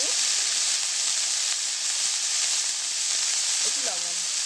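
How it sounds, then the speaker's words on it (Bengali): Shredded cabbage with salt and turmeric sizzles in hot oil, a steady bright hiss continuing throughout at moderate level, with faint brief voice sounds near the start and end. "বাঁধাকপি কুচিয়ে নিয়েছিলাম, বাঁধাকপিটাও ভেজে নেব"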